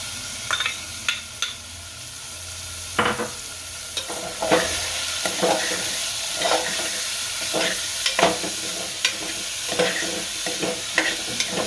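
Onions fry in oil for a Gujarati chana batata shaak, a steady close sizzle broken by repeated sharp scraping stirs of a spoon against the pan, with no talking.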